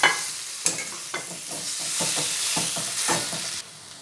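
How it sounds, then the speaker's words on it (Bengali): Pointed gourd pieces are stirred and fried in a pan for a sesame curry, a steady sizzle broken by a series of close, repeated scraping strokes of the spoon. "পটলগুলো দিয়ে একটু নেড়ে চেড়ে নেব।"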